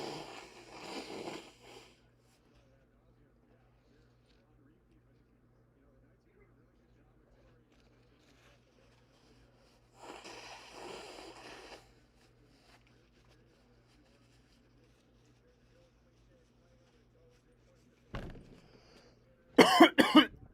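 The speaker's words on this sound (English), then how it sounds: "Blow my nose really quick." A person with a runny nose blows it in two short, forceful nasal bursts separated by quiet, followed by a louder snort and rustle near the end, close to the microphone.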